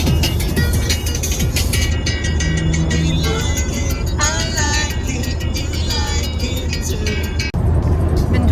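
A car cruising on a long highway drive from Slovenia toward Bulgaria, heard from inside as a loud, constant road and engine roar, with a few faint voice-like sounds over it and a brief dip near the end.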